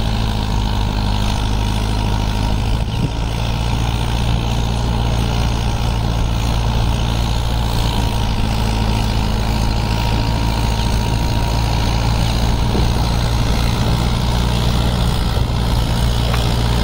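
The diesel engine of a Mahindra Yuvo Tech+ 585 DI Special Edition tractor working a rotavator in medium gear 1 at 1850 RPM gives off a loud, steady, close drone with a deep hum and no break.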